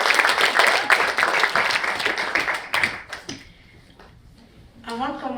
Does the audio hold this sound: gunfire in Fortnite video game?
no